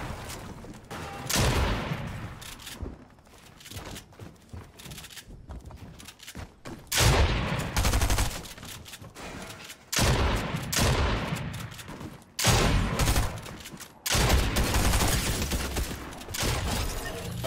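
Bursts of video-game gunfire in Fortnite, repeated volleys of shots loud and close, separated by brief pauses, with a few sharper cracks and rattling automatic fire.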